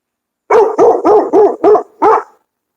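A dog barks six times in a steady rhythm, loud and close, with brief pauses between barks and no other sound.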